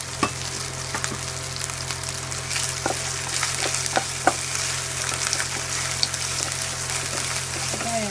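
Green chillies frying in a pan for a bottle gourd paneer curry, a constant soft sizzle with scattered pops and crackles and a low steady hum underneath, no voices.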